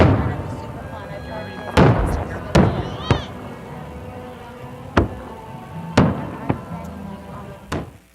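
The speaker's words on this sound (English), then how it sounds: "And fireworks filled the sky for almost a half hour over the Pahrump Nugget" Sharp booms and cracks burst at irregular intervals, about seven of them, during the Pahrump Nugget's annual Saturday-night fireworks show in Pahrump. A voice talks throughout under the blasts.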